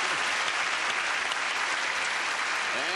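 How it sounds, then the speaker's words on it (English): A studio audience on The $100,000 Pyramid TV game show applauds, a loud, dense and even burst of clapping that fills the whole stretch without a break. "A round of applause, please, for Trapper John."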